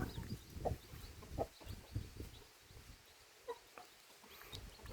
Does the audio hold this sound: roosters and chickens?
yes